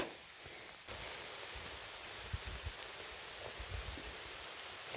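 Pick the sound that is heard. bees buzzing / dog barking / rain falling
rain falling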